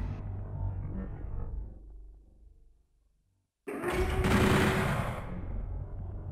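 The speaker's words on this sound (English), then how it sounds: "We're just gonna shoot it." Rapid automatic gunfire from the video game Doom 64, fading out into a brief silence before a loud new burst of machine-gun fire erupts and continues to the end.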